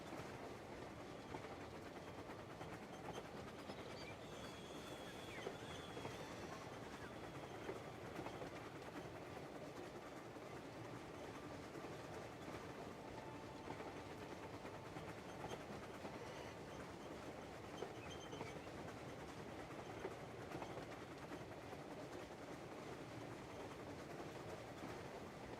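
Steady train ride in the Crimson Desert video game: continuous rolling rail rumble with rhythmic clickety-clack of wagon wheels, even and moderately loud throughout with no voices.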